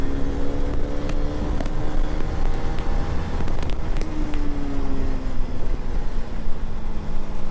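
Dense road traffic roars loud and close throughout a motorbike ride in a KTM RC200 versus NS200 drag run, with engines droning and passing vehicles swelling through a constant wash of noise, no voices.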